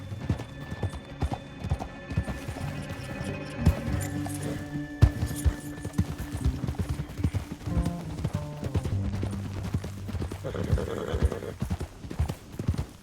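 Hooves clip-clop in a rapid galloping rhythm with a horse neighing, set against a dense, busy backdrop of layered game music and effects.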